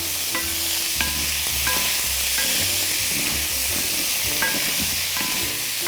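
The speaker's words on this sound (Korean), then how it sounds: "죽순을 넣어서 볶아주시면 되는데요." Thinly sliced bamboo shoots stir-fry in a pan with a loud, even sizzle and hiss, with intermittent clacks and scrapes of the utensil tossing them, close up and without speech.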